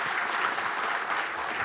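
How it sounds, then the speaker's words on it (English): An audience at a panel discussion applauds the panelists in a steady, even wash of clapping from many hands, heard briefly without a break. "let's give a warm round of applause for our amazing panelists."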